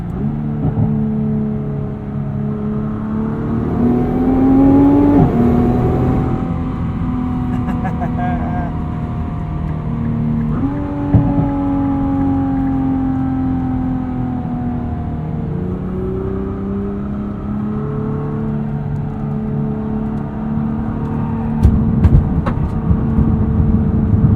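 2022 Nissan GT-R Premium engine accelerating up an entrance ramp in R mode, loud rising revs through several gear changes with brief dips between, heard from inside the cabin with a voice over it.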